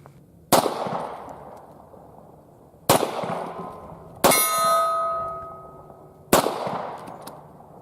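A Hi-Point pistol firing JHP rounds from the 10-yard line at bowling pins and a cowboy target: four loud, sharp shots about two seconds apart. One impact leaves a long, bright metallic ring that slowly fades.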